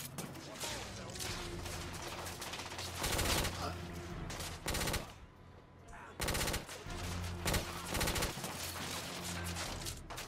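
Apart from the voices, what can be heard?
shotgun firing dragon's breath shells, The Order: 1886 video game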